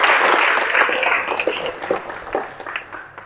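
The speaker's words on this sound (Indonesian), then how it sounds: "Oke, tepuk tangan." A class of vocational high school students claps together in a classroom. The dense burst of applause starts strong and thins out over about three seconds, with no talking over it.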